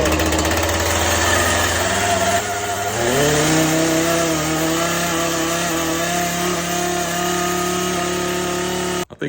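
A small chainsaw engine runs steadily at idle close by, its pitch rising briefly as it settles into a smooth, even drone before cutting off abruptly at the end.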